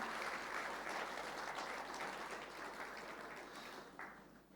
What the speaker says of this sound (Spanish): Fuerte ese aplauso de alabanza al Señor.